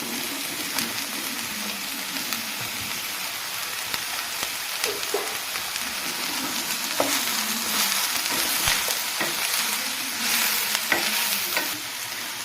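Chopped bitter gourd and two green chilies sizzle and crackle steadily in a hot pan for a bitter gourd theeyal, with occasional stirring scrapes and sharp pops rising over the continuous frying hiss.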